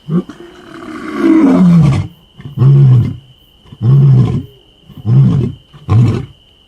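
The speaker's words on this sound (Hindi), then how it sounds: "ये शेर की आवाज है।" A lion roars close by in a series of deep, heavy bursts: one long rumbling roar, then four shorter grunting roars at steady intervals.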